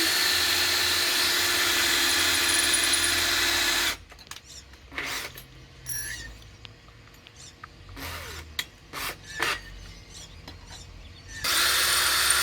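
A power drill with blunt bits works wood while building a racing simulator frame, a loud sustained whine that stops for several seconds of handling noises and knocks, then starts again.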